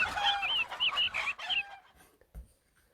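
A chicken clucks and squawks in a quick run of high, bright calls, moderately close, then fades out with a couple of soft knocks and no talk.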